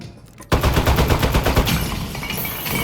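Rapid automatic turret fire from the Portal-universe game Aperture Desk Job, a loud, dense burst of repeated shots that starts abruptly and rattles on steadily for a couple of seconds.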